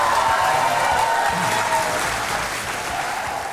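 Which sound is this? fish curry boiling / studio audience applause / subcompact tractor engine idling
studio audience applause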